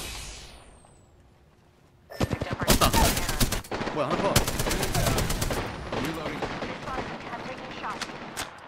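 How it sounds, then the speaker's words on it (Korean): Gunfire in Apex Legends arrives after a quiet start as dense, rapid automatic bursts close by, followed by a sustained rattle of shots and scattered later pops, while a player talks briefly. "총소리 뭐야?"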